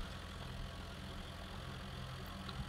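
A tractor engine running in the video game Farming Simulator 2013, a steady low idling drone that stays constant throughout, fairly loud, with no talk over it.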